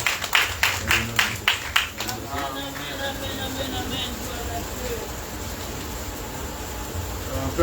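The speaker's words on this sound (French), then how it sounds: "On nous un bel applaudissement pour recevoir pasteur Pierre" A congregation at a Haitian Baptist church in central Florida claps in a quick steady rhythm for about two seconds. The clapping then fades into murmuring and room noise.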